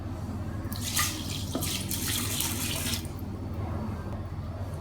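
Water runs from a tap and pours into a pot of rice for Sri Lankan milk rice, a steady splashing stream for about two seconds that then fades to a low background hum.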